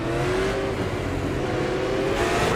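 Super late model race cars at Lanier National Speedway in the iRacing simulator, engines roaring loud and continuous as pitch climbs steadily under acceleration, several cars droning together.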